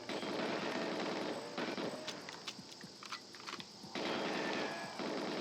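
Gunfire and impacts in the shooter game GoldenEye 007, on an Xbox port, with sharp cracks and bursts scattered over a busy game soundscape, fairly quiet overall and without speech.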